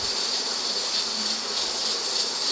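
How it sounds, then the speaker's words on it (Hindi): A pressure cooker on the stove is cooking Peshawari dum pukht, and its whistle releases steam as a steady, close, loud high hiss that continues unbroken. "अब सीटी बजने लग पड़ी है तो अब हमने इसको मज़ीद 20 मिनट पकाना होगा"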